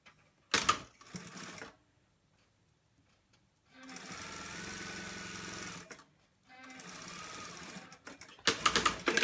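A sewing machine stitches a fleece hoodie in several loud, rapid running bursts separated by quiet pauses, the steady mechanical whir close by with no talk.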